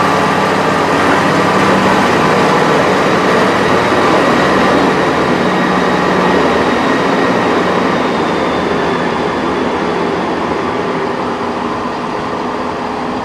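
Transport for Wales class 158 unit 158-837 bound for Aberystwyth at Cardiff, a loud steady rumble of engine and wheels running on without pause.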